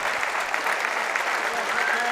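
A Hamburg crowd applauds on a Friday night at a squash match in the German Open, sustained dense clapping close and loud throughout.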